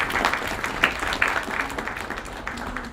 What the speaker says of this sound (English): Please give a huge round of applause to welcome her.